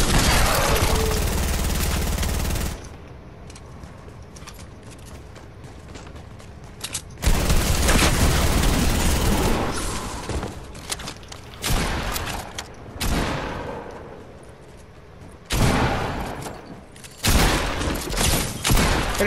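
Video game gunfire arrives in loud, dense bursts of shots with quieter stretches between them. The bursts are heavy and close, and faint background game noise fills the gaps.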